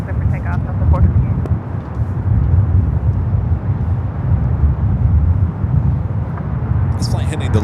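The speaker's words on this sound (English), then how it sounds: "This flight heading to Lahui, it's a 757-200, flight 428." Delta Boeing 757-200 airliner taking off from runway 24 Left at LAX, a steady loud engine roar sustained throughout with a faint voice near the start.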